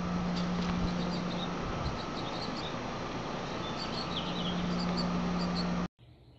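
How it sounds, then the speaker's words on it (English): Birds chirp outdoors among trees and bushes, faint high tweets scattered over a steady hum of background noise before the sound cuts off abruptly near the end. "You can hear the birds chirping."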